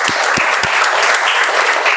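Dense, steady applause from an audience at a Toastmasters club meeting, loud and continuous for the whole stretch, with a few sharper claps standing out near the start.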